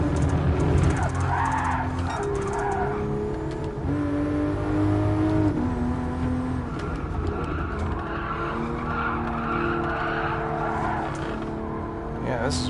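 A90 Supra engine lapping Tsukuba in GT Sport: a steady, sustained engine drone shifting pitch through gear changes, mixed with tire squeal and skidding, loud and continuous under a man's speech.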